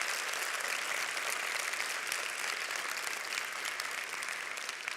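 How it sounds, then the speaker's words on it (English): An audience at a school of the arts launch event applauds, a dense, even round of clapping that holds steady for several seconds and fades slightly at the end, with no talking over it. "can you please give the Winter Park Health Foundation a very big round of applause?"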